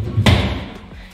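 A wardrobe drawer is shut with one dull, close thump, followed by a fainter knock a moment later inside an apartment room, with faint room noise and a voice in the background.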